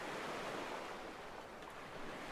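Steady ocean surf from the horror video game Static Dread, a continuous wash of waves that rolls on with no breaks and no voices.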